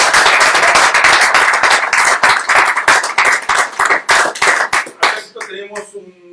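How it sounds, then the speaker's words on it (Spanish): A crowd on a Spanish-language television show breaks into loud, close clapping that turns sparse and uneven near the end, then fades out with a faint murmur of voices. "aquí hay bastante gente para que te den un aplauso por todo lo que tú has hecho"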